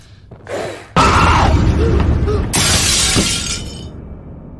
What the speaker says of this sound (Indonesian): sebuah tangan tiba-tiba muncul di cermin itu yang membuat cermin itu pecah